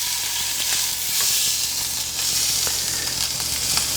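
Meat sears in a hot pan with a dense, constant sizzle and occasional faint crackles, loud and close with no speech.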